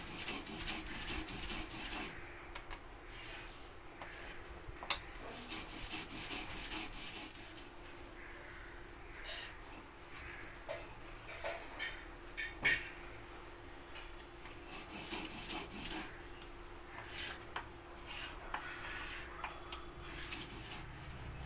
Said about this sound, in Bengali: তাই নারকেলটাও কিছু এর সঙ্গে বেটে নিচ্ছি